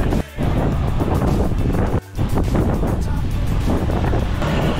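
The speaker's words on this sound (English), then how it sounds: "Full on headwind." Strong headwind roars across the microphone during a bicycle ride toward Langebaan on South Africa's west coast, a loud continuous buffeting with two brief dips in the gusts.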